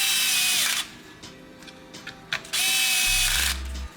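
Power drill on its lowest torque setting driving bolts into a Beetle kit, two whining bursts with ratcheting clutch clicks, separated by a short pause filled with light handling noises, close and loud.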